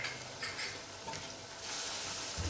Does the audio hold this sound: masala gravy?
yes